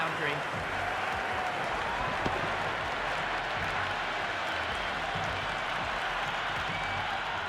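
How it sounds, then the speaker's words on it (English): A video game cricket crowd in Cricket 26 applauds a six in a stadium, steady distant clapping and cheering washing under a commentator's voice. "The crowd is electric right now."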